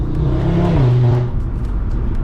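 Close-up drone of a 2019 Audi RS3 with a Milltek exhaust, the engine note swelling and then sliding lower as the revs drop, loud and steady with no talking.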